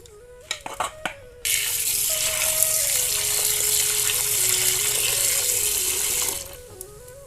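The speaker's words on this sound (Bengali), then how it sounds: "তো মাংসটাকে এইভাবে ধুয়ে নেব।" Tap water gushes steadily into a sink while raw broiler chicken meat is washed, loud and close for several seconds after a few clattering knocks, then cuts off.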